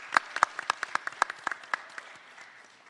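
An audience applauds for activist Tamika Mallory at a symposium, a crisp burst of claps that thins out and fades over a few seconds.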